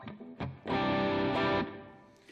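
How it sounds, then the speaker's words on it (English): A guitar runs through a Boss SD-1 overdrive pedal into a Fender Hot Rod DeVille amp with a touch of reverb: a couple of short plucked notes, then one sustained, gritty, nasal overdriven chord that rings and fades. "So you can hear it's got a little bit of that nasally type quality to it, which I really like in an overdrive like that."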